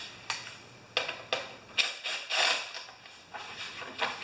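Socket wrench working the 5/16 carburetor jet bolt on a Craftsman lawn mower, a close series of short ratcheting clicks and metallic rasps in uneven bursts, with no talking.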